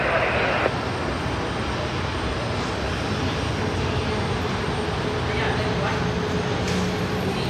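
An Embraer jet departing Seattle-Tacoma International Airport, a steady broad engine roar at moderate distance running through the whole stretch, with radio voices talking over it.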